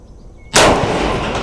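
A single loud, close gunshot from a Super SASS rifle cracks after a brief quiet moment, followed by a long, rumbling echo that fades slowly.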